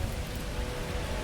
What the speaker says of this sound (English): While I was running in the rain?